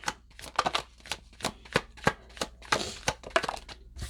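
Tarot cards being shuffled by hand, a close series of crisp, papery riffles and slaps in uneven bursts, roughly a dozen distinct flicks with brief pauses between them and no talking.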